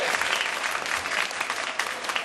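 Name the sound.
audience applause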